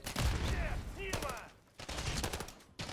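Rapid pistol fire in the video game Call of Duty: Modern Warfare 3, heard as quick gunshots in close succession mixed with game sound effects and clutter, brief, loud and dense.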